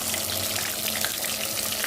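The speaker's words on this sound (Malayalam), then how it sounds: "ആഫ്റ്റർ ഹാഫ് ആൻ അവർ നമുക്ക് ഈ ഫിഷ് ഓയിലിൽ ഫ്രൈ ചെയ്തെടുക്കാം." Marinated fish frying in hot oil, a fine continuous sizzle and crackle at close range, steady and moderately loud with no one talking.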